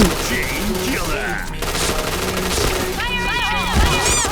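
Rapid gunfire from the online shooter Point Blank bursts and rattles continuously over game music and effects, with a voice talking over parts of it.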